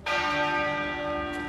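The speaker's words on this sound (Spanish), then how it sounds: "la abadía, que ha hecho sonar 96 campanadas, una por cada año de vida de la reina" A single church bell tolls at Westminster Abbey for the Queen's funeral: one loud resonant strike with a long sustained ringing hum that fades slowly.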